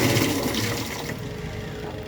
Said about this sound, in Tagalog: Lakas ang bulwak ng tubig.